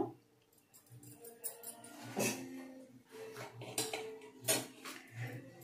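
Hair dye and coconut oil being mixed in a bowl, with close, irregular clinks and scrapes of a spoon against the dish, moderately loud with no talk.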